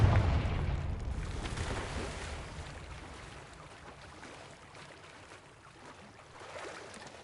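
A Confringo spell explodes in Hogwarts Legacy with a deep, booming blast that hits at the start and rumbles away over several seconds, followed by a low lingering roar.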